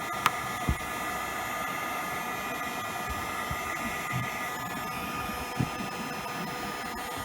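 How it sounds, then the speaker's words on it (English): A heat gun blows a steady, even hiss with no break while softening RV roofing during a skylight replacement, and a few faint knocks and taps sound beneath the constant airflow. "This heat gun's a ticket here."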